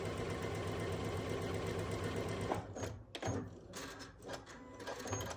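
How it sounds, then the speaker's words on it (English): A sewing machine runs steadily, stitching the rows of a nine-patch quilt block together. It hums and whirs for about two and a half seconds, then stops, followed by softer handling of the fabric. "We have now sewn all 3 of our rows together."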